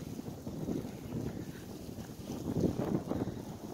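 Steady wind under a New Mexico December sky buffets the microphone in low rumbling gusts, swelling slightly toward the end, with no voices.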